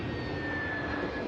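Airliner at Manchester Airport, a steady roaring jet engine drone with a faint high whine, continuous and fairly loud throughout the short moment.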